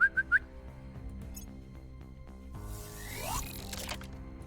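A person whistles at a rover in the game Terra Invicta, giving three short, sharp whistle notes at the start, followed by soft background music and a brief rising electronic sweep.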